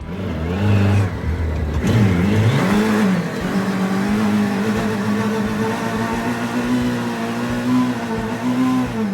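A mini trophy truck with a Hayabusa motorcycle engine revs loud and close off-road, climbing in a couple of sharp surges and then holding a steady high-pitched whine with no talking.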